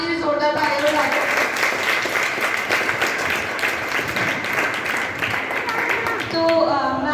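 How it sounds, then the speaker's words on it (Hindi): A crowd breaks into loud, sustained applause for a guest at a youth service gathering, thick continuous clapping lasting several seconds, with brief speech at the start and end. "चलो मैम के लिए जोरदार तालियां बजाएं।"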